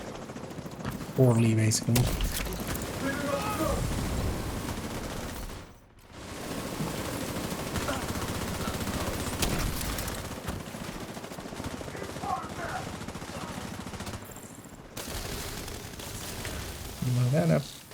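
A mini tank in a video game fires its guns in long bursts of dense, rattling gunfire that run almost continuously and drop out briefly once, while a voice talks over the shooting.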